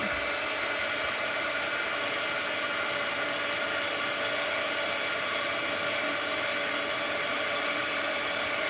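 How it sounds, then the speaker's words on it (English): A heat tool blasts a steady, close whooshing roar over art journal mixed-media material, holding constant and loud with no breaks or talk. "I'm going to have to heat this up a little more"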